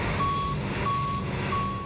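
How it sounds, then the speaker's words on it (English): A truck reverses on a bridge construction site, its backup alarm giving three evenly spaced high beeps over a steady engine rumble and broadband site noise. "The sound of construction"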